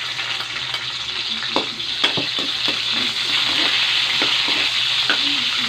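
Garlic sputters in hot cooking oil for adobong pata, a dense, bright sizzle that holds steady and swells slightly, with occasional soft stirring taps, close up.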